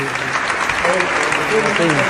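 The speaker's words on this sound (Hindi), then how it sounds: "एक संवेदना का गीत एक बार तालियां बजा दीजिए" Listeners at a Hindi poetry reading clap together, a brief, loud burst of crowd applause lasting about two seconds, with voices mixed in underneath.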